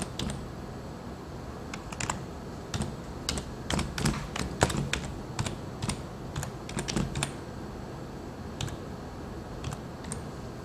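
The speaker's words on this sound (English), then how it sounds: "enter your email address and your password." An email address and password are typed on a computer keyboard in irregular bursts of close, crisp key clicks with short pauses, fairly quiet against a faint background hiss.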